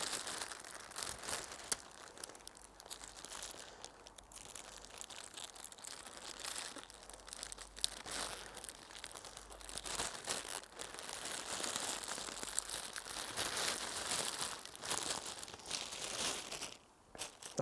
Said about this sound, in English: And then tape this tight around